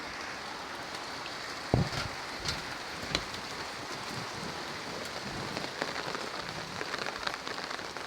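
Heavy rain pours down in a Bangladeshi village, a close, constant wash of drops striking surfaces, with a sharp knock near the start and scattered louder splatters rising over the steady roar.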